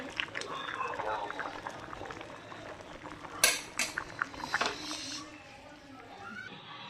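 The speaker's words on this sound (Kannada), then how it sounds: "ನೋಡಿ ಈ ಥರ ಇದನ್ನು ಸ್ಟ್ರೈನ್ ಮಾಡ್ತಿದ್ದೀನಿ, ನೀರು ಹಿಂಗೆ ಕೆಟ್ಟಿದ್ದೀನಿ ನೋಡಿ" Water is strained off boiled Maggi noodles in a kitchen, giving splashing, pouring liquid with clinks of a pot and utensils, mixed with nearby talking.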